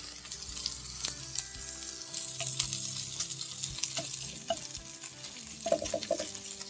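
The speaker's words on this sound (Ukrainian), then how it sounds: "М'ясце кидаєте і воно тушкується." Meat stews and sizzles in a frying pan while making cabbage patties, a close, continuous crackling fry with occasional stirring scrapes and small pops.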